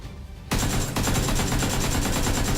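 Automatic gunfire in the battle royale game PUBG, a rapid, loud, close burst of shots in a steady rattling rhythm that starts suddenly and keeps firing with no talk.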